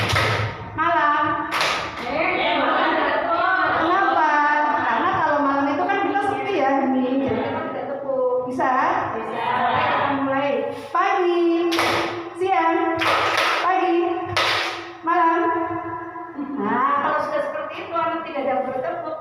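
Students in a classroom clap in answer to a teacher's greeting: a few sharp single and double claps cut through a teacher's ongoing talk.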